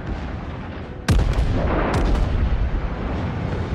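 Heavy naval gun salvos from a warship's rear turrets in World of Warships, two deep booming blasts about a second apart over steady ocean and engine ambience, loud and close with rolling rumble after each shot.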